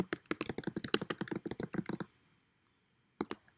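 Rapid clicking of keys on a computer keyboard as a name is typed into a document, close and crisp, in a quick burst followed by silence and a few last taps.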